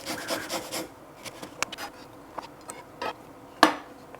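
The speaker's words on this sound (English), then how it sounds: "Ginger, we're going to grate this and then we're going to use 10 grams." Fresh ginger scraped across a fine microplane grater in a kitchen, making short dry rasping strokes in an uneven rhythm, close and fairly quiet, with no talking.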